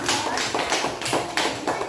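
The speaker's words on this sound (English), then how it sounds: "Give her a round of applause." A classroom of children gives a round of applause, a steady patter of close hand claps lasting throughout, with little talk.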